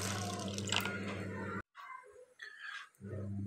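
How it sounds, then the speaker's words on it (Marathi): Chana dal being washed in water, with splashing and rinsing noise steady for about a second and a half, then a brief pause and softer drips, before the washing sound resumes near and fairly loud. "सर्वात आधी डाळ धुवून घ्या।"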